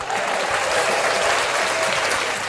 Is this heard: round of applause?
yes